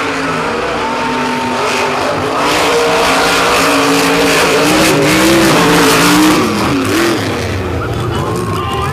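Monster trucks Bad Company and Blockhead race on a beach track, a loud, continuous roar of engines with revving and shifting pitch, heard up close amid crowd and commentary noise.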